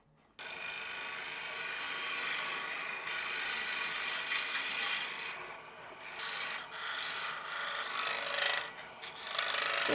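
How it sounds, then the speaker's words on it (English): Ball gouge cutting into a small wooden snowman ornament spinning on a small lathe, a steady close scraping rasp with short dips and pauses as the tool shifts. "Back to the ball gouge."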